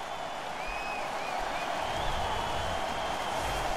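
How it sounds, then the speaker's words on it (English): A hockey arena crowd at a St. Louis Blues versus Calgary Flames game roars after a fight. A loud, sustained wash of cheering and applause runs throughout, with faint whistles rising above it. "The crowd is so pumped right now."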